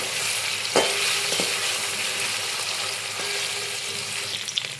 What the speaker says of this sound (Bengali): কড়াইয়ের তেল গরম হয়ে গিয়েছে, কেটে রাখা পনির কড়াইয়ে দিয়ে দিচ্ছি।